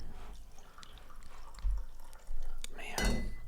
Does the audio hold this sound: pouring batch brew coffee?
yes